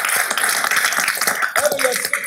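A crowd at a city council meeting claps steadily, a dense burst of applause close by, with a few voices mixed in beneath the clapping.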